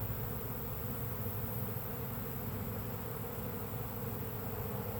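Thick, unbroken buzzing from a huge honeybee swarm close at hand, several swarms combining into one, holding steady and loud without any talk.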